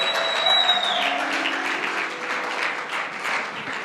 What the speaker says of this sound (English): Can the people of God praise and shout and clap their hands for the Lord Jesus?